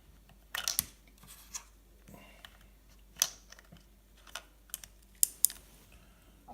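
Keys tapped one at a time on a Commodore 64 keyboard while a file name is entered, giving sparse, uneven clicks close by over a quiet background.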